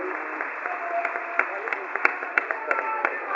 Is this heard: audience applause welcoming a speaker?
yes